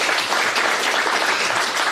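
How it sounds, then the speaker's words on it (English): An audience at a startup pitch event claps steadily in dense, even applause, loud and close, filling the whole moment without a break. "round of applause for everyone again"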